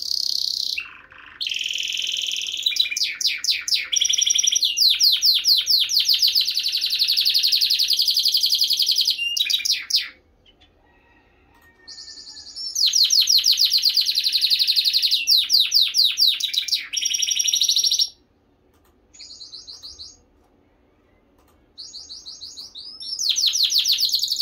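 Gloster canaries singing in loud, close bursts of fast trilling song that alternate with short silent gaps, with no voices present.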